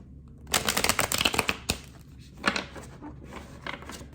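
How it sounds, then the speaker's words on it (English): Tarot cards are riffled and shuffled close by, a rapid crisp fluttering burst lasting about a second, followed by a sharp tap and a couple of softer shuffles and card slides in a quiet room. "Let's shuffle the cards 3 times."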